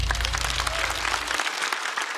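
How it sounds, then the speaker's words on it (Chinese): Audience applause at a stand-up comedy show, dense clapping from a studio crowd, loud at first over low music that cuts off partway, then clapping alone. "掌声送给虎牙"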